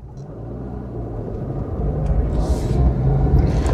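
An old car drives along a road, heard from inside as a steady low engine rumble and road noise that swells slightly, with brief faint high whirs over the drone.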